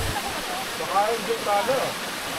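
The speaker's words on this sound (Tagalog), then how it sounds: "Siyempre, magandang waterfall." Broadband rushing water from a waterfall at Sapang Uwak in Porac, Pampanga roars steadily throughout, with a few faint voices or whistles briefly audible above the constant wash.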